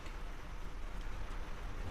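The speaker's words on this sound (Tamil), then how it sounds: "செம்ம மழை வெளியெல்லாம் அப்படியே மழை இதாகிட்டு இருக்கு" Heavy rain pours steadily outside a house on a dark evening, a constant broadband hiss with no distinct drops standing out, fairly quiet and continuous throughout.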